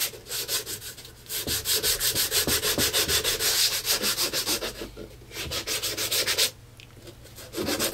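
Wood being sanded right after glue is applied, before it dries; a steady, rasping back-and-forth rhythm of fast strokes, close and loud, pausing briefly once and then resuming.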